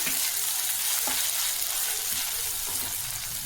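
Ginger garlic paste fries with mutton in a pan, giving a close, steady sizzle with a faint crackle throughout and no talking.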